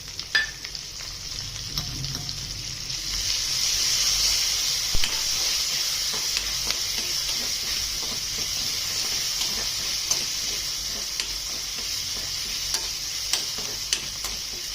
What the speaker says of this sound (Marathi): जिरे तडतडले की मिरच्या टाकते हिरव्या मिरच्या त्याच्यामध्ये